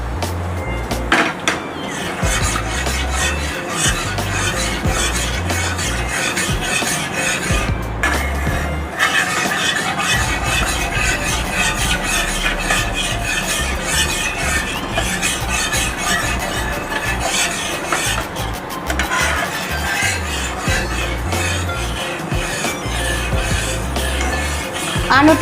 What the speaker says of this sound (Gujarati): હવે આ રીતે આપણે થોડું થોડું મિક્સ કરતા જશું